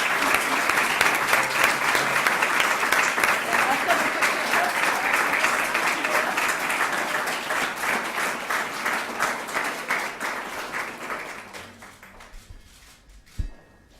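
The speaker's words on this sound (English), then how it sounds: "let's give our award winners another round of applause" An audience applauds democracy video challenge award winners at a State Department ceremony, a dense sustained round of clapping that thins into scattered individual claps and fades toward the end, with a sharp knock at the close.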